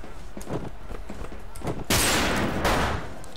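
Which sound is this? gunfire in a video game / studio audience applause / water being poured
gunfire in a video game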